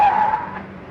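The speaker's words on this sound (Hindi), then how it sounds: "हमारी कॉलोनी में नई गाड़ी।" A new car pulls into a residential colony with a loud tire skid, one sustained high screech that holds for about a second and eases off slightly at the end.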